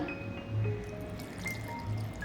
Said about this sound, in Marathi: त्याच्यामध्ये थोडंसं पाणी घालूया